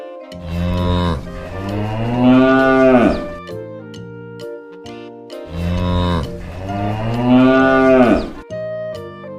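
A cow and calf moo twice, close and loud: two long drawn-out lows separated by a brief quiet pause, with no other sounds around them.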